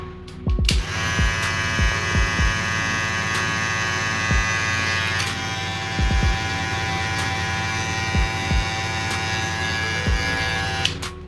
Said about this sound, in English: Clipper.